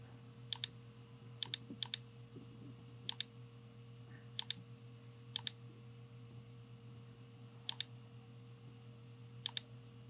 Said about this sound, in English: I will just hit 2 on the keyboard